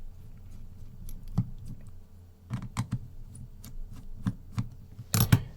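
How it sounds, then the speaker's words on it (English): Small screws are worked loose with a little crosshead screwdriver on a tablet, sparse faint scrapes and clicks over a low hum, with a sharper cluster of clicks near the end. "All you need is a little crosshead screwdriver"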